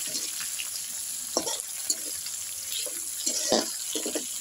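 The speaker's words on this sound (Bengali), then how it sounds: "চিংড়ি মাছটাকেও একটু ভেজে নেব" Shrimp frying with onions in a pan for a bitter gourd and potato curry, a continuous close sizzle broken by short clattering stirs and splashes.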